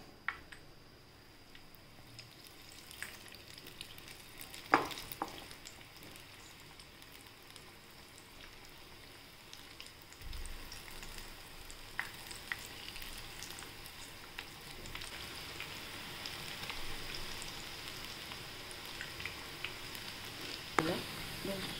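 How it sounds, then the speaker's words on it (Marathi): Fenugreek pakoda (bhaji) frying in hot oil gives a continuous faint sizzle and crackle that thickens midway, with occasional soft clicks and knocks from the pan, all fairly quiet. "आता आपण तेल तापत ठेवलं आहे, छान तेल तापलं आहे। आपण आता भजी टाकूया।"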